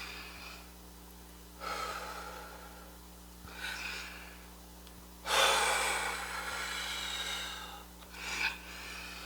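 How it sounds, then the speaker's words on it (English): Slow deep breaths drawn in and let out during a quiet guided relaxation, several soft airy inhales and exhales spaced a few seconds apart over a steady low background hum. "Deep breath."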